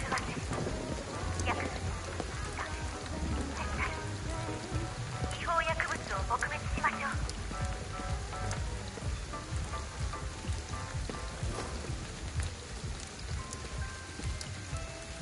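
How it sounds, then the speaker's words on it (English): Steady rain in the video game Ghostwire Tokyo, a continuous hiss of falling drops with scattered pattering and soft low rumbles throughout, fairly even in loudness, with a voice briefly audible underneath. "So I can feel the rain"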